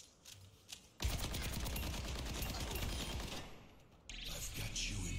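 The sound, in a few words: gunfire with tactical visor at bots in video game Overwatch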